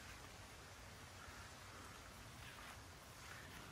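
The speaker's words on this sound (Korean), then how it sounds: "이슬비가 조금씩 내리는 아침입니다." Light drizzle falls on an early August morning, a soft, even hiss of fine rain that stays faint and steady throughout, with no voices.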